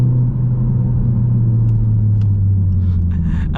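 A Mk4 Ford Focus ST Edition cruises on an open road near 60 mph, a steady loud engine and road rumble with a low drone throughout, no speech.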